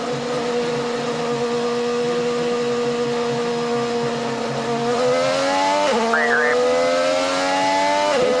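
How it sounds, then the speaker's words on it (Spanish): On-board engine of an IndyCar driven by Newgarden at steady speed, a loud sustained engine drone holding nearly constant pitch with only slight shifts, close and alone throughout. "la velocidad de Newgarden es constante, en ningún momento se escucha acelerar y desacelerar"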